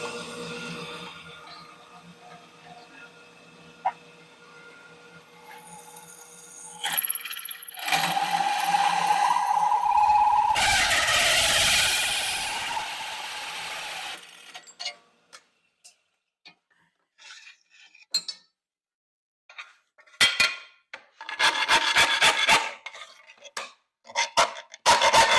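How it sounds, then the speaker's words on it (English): Power tools cut holes and press a dimple die into a snowcat body panel, a steady whirring motor, then a loud harsh grinding stretch, followed by intermittent bursts of machining and clanks with short silences between. "we're going to get some of these holes cut and test out the dimple die in this piece."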